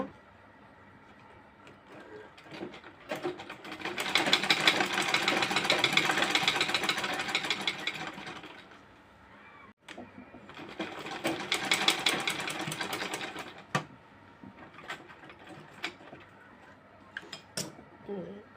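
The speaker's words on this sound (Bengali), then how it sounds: "এখন মেশিনে সেলাই করে আটকে নেব" A home sewing machine stitches scrap fabric pieces for a headband in two bursts of rattling, whirring motor noise, each running for several seconds and separated by a short pause, with faint clicks and handling sounds between.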